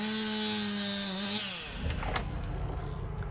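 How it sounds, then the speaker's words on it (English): Chainsaws buzz while cutting wood in tornado cleanup, an engine tone sliding down as a cut ends, then rough crackling and rasping, loud and near. "the roar of the storm has been replaced by the buzz of chainsaws"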